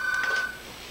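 A telephone rings briefly indoors during a Christmas gathering: a single steady electronic tone lasting about half a second, then fading into quiet room hiss.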